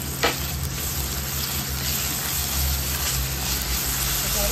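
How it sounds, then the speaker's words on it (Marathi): Ginger garlic paste sautés in hot oil with browned onion, a dense, even sizzle that holds steady and close throughout with only a faint tap near the start and no voices. "आता याच्यात आपण आलं लसूणची पेस्ट थोडी परतून घेऊया।"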